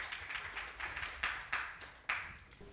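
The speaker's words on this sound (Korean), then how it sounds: "힘찬 박수로 모시겠습니다" Sparse, slow clapping from a small seminar audience greeting a speaker at a technical seminar, with a handful of distinct claps that sound fairly near but quiet, each ringing briefly in the room.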